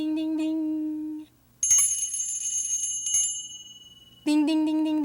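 A small handbell rings in a clear, close, repeated ding with bright sustained overtones and a brief pause between ringing passages; a higher, longer ringing tone fills the middle.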